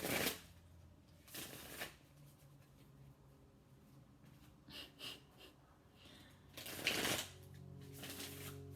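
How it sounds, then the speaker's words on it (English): Tarot cards are shuffled in a few brief riffling bursts close by, separated by quiet pauses, with faint rustling in between. "I want to shuffle one more time."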